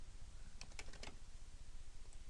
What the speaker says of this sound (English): Just typing in 100 by 100.